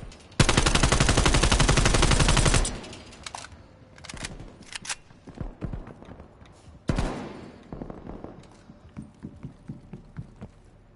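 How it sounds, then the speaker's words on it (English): Heavy sustained automatic gunfire from a Call of Duty Prop Hunt match, a loud continuous burst for about two seconds, then scattered shots and game effects with another short burst later. "I'm gonna start shooting everything."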